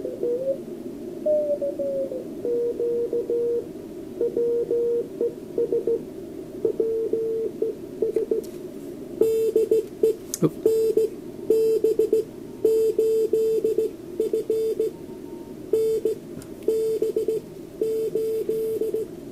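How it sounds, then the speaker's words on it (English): A ham radio signal on an SST20 receiver with steady tones and a faint speaker buzzing rattle that swells as the signal gets louder, with no talking. "that buzzing you heard when his signal got a bit louder, that's actually my speaker"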